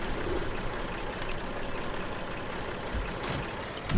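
A tractor engine in a vintage farming survival video game idles and rumbles steadily, a low, close mechanical drone with a few brief knocks near the end.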